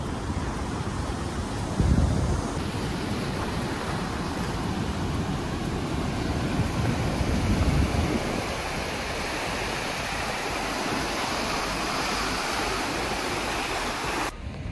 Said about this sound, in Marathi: मागं बघू शकतात तुम्ही माझ्या समुद्र